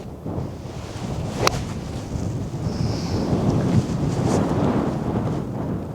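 Steady wind buffets the microphone on a remote UK golf course, a continuous rough rumble that swells slightly and keeps going without a break.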